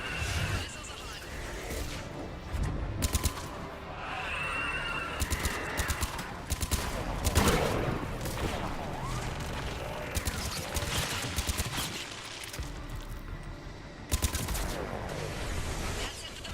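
Missile launches roar from a Mass Effect 3 battle, with repeated loud bursts and rattling impacts packed densely over a continuous din of combat noise, with no talk.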